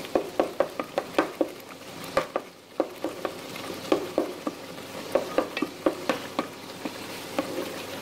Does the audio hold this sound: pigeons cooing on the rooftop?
no